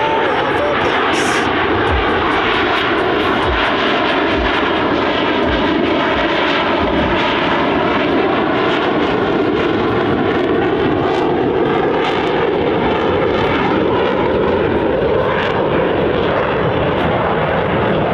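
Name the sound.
Blue Angels Super Hornet jets flying at an airshow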